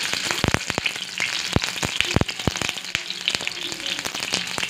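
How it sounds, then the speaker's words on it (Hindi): Kofta balls for nargisi kofta, not yet filled with egg, fry in hot oil with a busy crackle of sharp pops and spits over a constant sizzle, loud and close. "मैंने बगैर अंडे रखे कोफ्ते फ्राई कर रही हूँ पहले"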